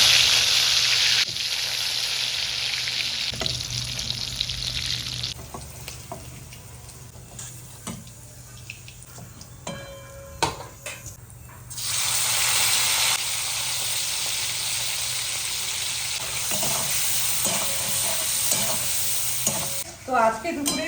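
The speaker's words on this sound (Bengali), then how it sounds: "এখানে মাছগুলো ভাজা হচ্ছে।" Prawns fry in a pan, giving a close, steady sizzling hiss with stirring clatter; the sizzle drops away for several seconds in the middle, then returns loud and continuous.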